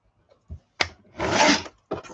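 Scrapbook paper is cut to size in a few short, close strokes: small scratchy scrapes leading into one longer rasping slice, then a final brief cut, with quiet gaps in between.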